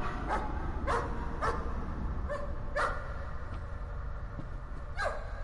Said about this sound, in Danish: Det er bare en hund.